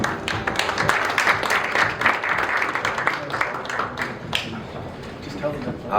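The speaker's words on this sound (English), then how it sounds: "Please welcome him with big round of applause." A round of applause at a Korea-US seminar welcomes a speaker, steady clapping from an audience lasting several seconds, mixed with some voices.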